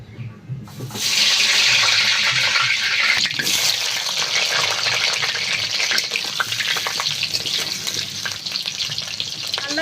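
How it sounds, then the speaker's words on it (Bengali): Thick chunks of potato dropped into hot oil burst into a loud, close sizzle after a quiet start, then keep frying steadily with occasional stirring clatter and no talk. "এই যে মোটা মোটা আলুগুলো তেলে দিয়ে ভেজে নেব"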